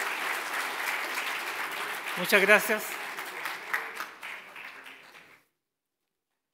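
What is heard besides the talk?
audience applause for conference panelists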